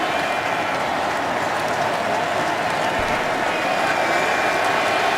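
Football stadium crowd at a Ravens home opener in Baltimore, a loud continuous roar of many voices and clapping that holds steady and swells a little toward the end.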